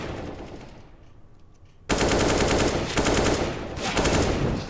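Gunfire during a Counter-Strike: Global Offensive pro match at Katowice 2023, a quiet stretch and then a sudden loud, dense burst of rapid automatic shots that continues to the end.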